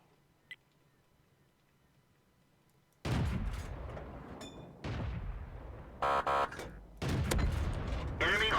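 Heavy tank cannon fire in World of Tanks, with a few loud booming blasts starting suddenly and ringing out over rumbling battle noise and mechanical clanks, with no talking.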